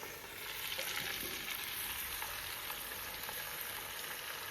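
Meat and potatoes frying in oil in a kazan for kazan kebab: a loud, even sizzle and crackle close by, with faint stirring scrapes mixed in and no voices.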